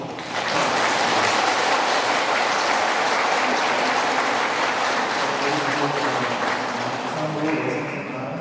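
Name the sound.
applause from congregation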